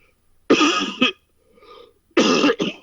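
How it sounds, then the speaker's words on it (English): Two harsh coughing bursts, each a pair of rough hacks, close to the microphone, with a soft throaty sound in the pause between them. "excuse me for coughing a little bit here"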